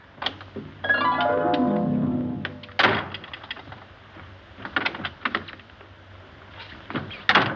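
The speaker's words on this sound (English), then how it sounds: "Doors just don't open and shut themselves." A door opens and shuts by itself, with a creaking glide followed by a sharp thunk of it closing. Scattered lighter knocks and clatter follow at moderate distance.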